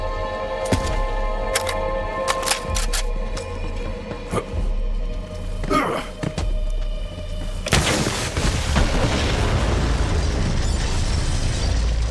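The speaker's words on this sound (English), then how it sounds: "The explosion echoed through the forest, and those devil riders didn't even get a chance to hit the brakes." A large explosion in Borderlands 3 set off in a forest, preceded by scattered in-game clicks and thuds, then a sudden loud boom that rolls into a sustained rumbling roar to the end.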